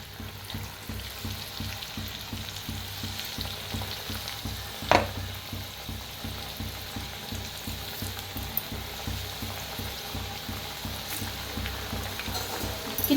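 Chakli deep-frying in hot oil gives a steady, dense crackling sizzle for the whole stretch, with one sharper clatter partway through and no voices.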